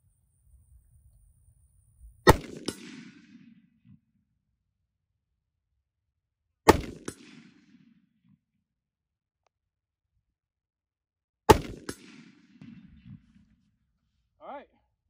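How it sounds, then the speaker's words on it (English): Rifle firing hunting ammunition with core-lock bullets at an outdoor target: three sharp, loud shots spaced about four and a half seconds apart, each with a short echoing tail, in otherwise quiet surroundings. "So I'll let Jake shoot some actual hunting ammo, which is that core lock"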